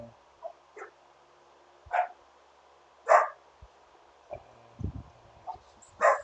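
Dogs bark off in another room, a scattered series of short, moderately loud yaps and woofs spaced irregularly over several seconds, with no talk.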